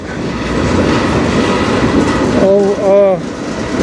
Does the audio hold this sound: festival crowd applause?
no